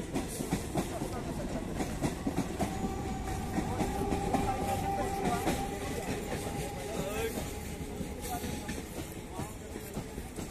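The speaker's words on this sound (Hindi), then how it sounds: "दोनों ट्रेन एक साथ आई है।" Two EMU suburban trains pass each other at Villivakkam station: a continuous rumble with rapid clickety-clack from wheels over rail joints, loud and close, with voices faintly audible underneath.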